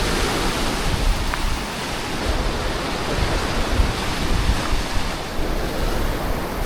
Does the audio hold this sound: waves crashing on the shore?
yes